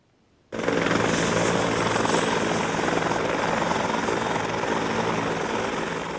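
A police helicopter flying: after half a second of quiet, a loud, steady rotor and engine roar starts abruptly and holds evenly, with no voices over it.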